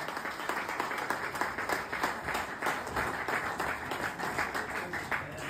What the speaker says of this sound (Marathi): एक बार तुमच्यासाठी जोरदार टाळ्या होत्या, स्वतःसाठी होत्या.